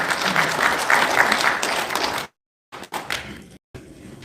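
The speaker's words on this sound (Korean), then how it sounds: "큰 박수 부탁드리겠습니다" An audience at a seminar in a National Assembly conference hall applauds steadily for about two seconds, then stops abruptly, followed by a few scattered thumps and brief noises.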